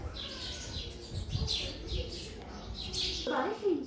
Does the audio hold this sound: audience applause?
no